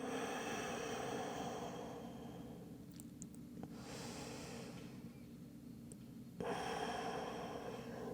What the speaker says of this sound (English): Take a couple deep rounds of breath here